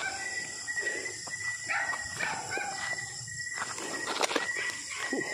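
A dog barks in a few scattered, sharp barks, somewhat distant, against a steady hissy outdoor background.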